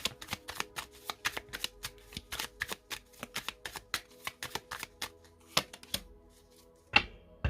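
A tarot deck is shuffled and cards drawn, heard as a quick run of crisp card slaps and riffles in close succession, then a few slower separate flicks and a final sharper snap as a card is laid down.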